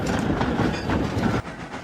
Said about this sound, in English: Thomas and the visiting engines puffed into the yard